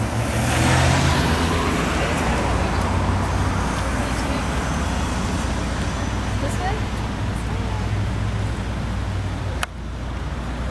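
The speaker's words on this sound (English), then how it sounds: "but it's not really very busy, the traffic right now." Steady road traffic at the Sackville Street and Bell Road intersection in Halifax, with cars idling and passing in a continuous broadband rumble. The rumble stays loud throughout, eases slightly near the end, and is marked by a brief sharp click.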